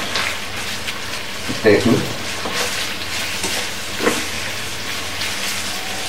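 Chicken roast in a pan, mixed with a few drops of rose water and kewra water, gives a soft continuous sizzle with scraping stir strokes, heard alongside someone speaking.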